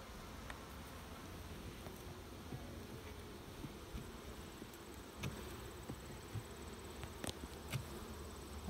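Honey bees forage among yellow clover on a sunny golf course, making a faint, steady buzzing hum with a few louder passes close by.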